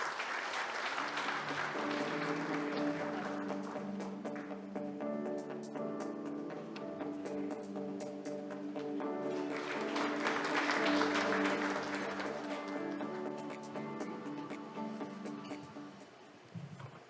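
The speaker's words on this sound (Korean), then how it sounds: "여러분 뜨거운 박수로 맞아주시기 바랍니다" A large audience at a formal forum applauds to welcome a speaker onto the stage, with sustained, even clapping that swells midway and fades near the end, while a musical fanfare plays along underneath.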